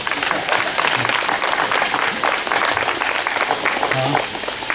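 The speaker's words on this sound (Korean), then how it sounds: "이렇게 박수가 되게 나오는데요." Many hands clap at a red-carpet event during the Jinan arts festival, a loud, sustained wash of applause with scattered voices underneath that eases slightly near the end.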